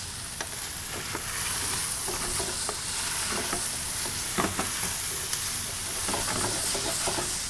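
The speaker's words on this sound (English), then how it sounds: "So we're gonna work those chipotles and adobo into this." Chipotles in adobo being stirred into a sizzling dish in a pan, a steady hissing fry with intermittent scraping and clacking from the stirring utensil, no speech.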